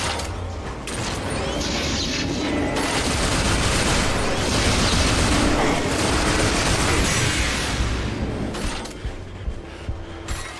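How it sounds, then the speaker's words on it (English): In the video game Rage, a chain gun fires its BFG alternate ammo: a dense, loud mechanical rattle of rapid rounds sustained for several seconds, tailing off into scattered clanks. "in Rage, BFG is just an alternate ammo for a boring chain gun."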